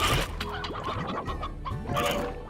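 Hens in the video game Slime Rancher cluck in a busy overlapping chorus, several birds calling close together in quick bursts without any talking.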